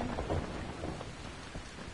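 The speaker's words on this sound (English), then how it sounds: "The thunder is spooky!" Thunderstorm with rain in the video game Dying Light, a steady hiss of rain under a low rolling rumble of thunder, fairly faint with no voices.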